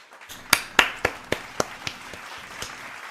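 Sparse applause sound effect, a handful of distinct claps spaced unevenly over a few seconds, fairly close and dry, fading slightly toward the end.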